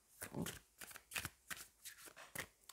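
Tarot cards shuffled by hand, a quick series of crisp riffling bursts in an uneven rhythm, close and fairly quiet with nothing else heard.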